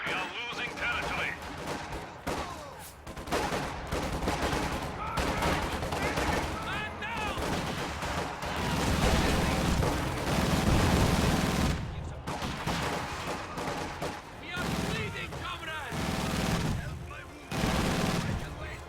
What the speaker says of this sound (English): Lucky infantry support gun shots always help, though.